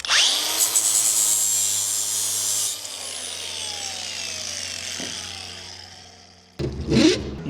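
A power tool smooths a roughed-in cut edge in an ironworks glass panel fitting job. It gives a high, steady whine that winds down with a falling pitch after about three seconds, then a brief louder burst near the end.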